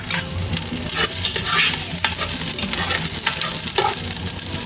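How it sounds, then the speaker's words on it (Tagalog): Garlic sautéing in hot oil, a loud, dense crackling sizzle that fills the whole stretch, with repeated scraping stirs of a utensil in the pan. "Ilalagay ko na po itong ating bawang. Tayo po muna ay maggigisa po ng ricado."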